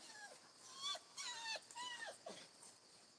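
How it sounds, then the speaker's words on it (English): A dog whimpers and whines in a series of short, high, falling cries, close by but faint, over a quiet background. "We got a pudge dog right here with us."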